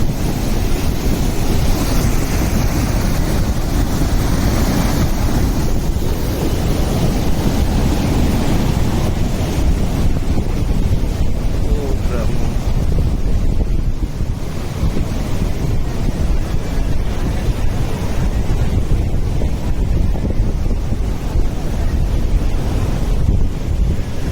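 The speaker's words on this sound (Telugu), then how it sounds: "ఇక్కడ అలుగు దగ్గర వాటర్ వాయలసింగవరం గ్రామంలోని చెరువు నిండి వాటర్ వస్తున్న దృశ్యం" Water from a full village lake at Vayalasingavaram pours over the weir in a constant rushing roar, loud and close, with wind buffeting the microphone and no voices.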